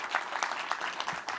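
Conference audience applauding at a developer session, a steady wash of many hands clapping at moderate volume without talk.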